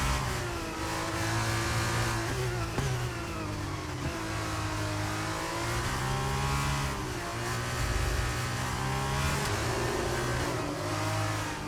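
An F2 race car engine in the racing game F1 23, screaming at high revs from start to finish, with pitch rising through the gears and dipping on shifts, loud and close, with no talk over it.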